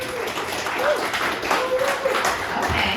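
Applause from a comedy club audience in Salmon, Idaho, a steady wash of clapping lasting the full three seconds, with a few voices calling out on top.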